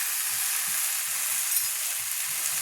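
Ground black pepper, cumin and coriander powders fry in hot oil for a papaya dish, giving a steady bright sizzle with soft, rhythmic scrapes from a stirring utensil and no voices.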